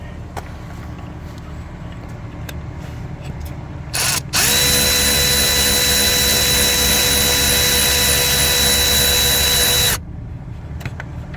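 A power tool removes the 10 mm bolt holding the crankshaft position sensor on a Jeep Patriot, running as a loud, steady whine for about six seconds after a short burst, with quiet workshop noise before and after.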